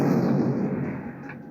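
Rockets fire in the Build a Boat video game, a short, dense booming burst that fades slightly over a second and a half, with no talk.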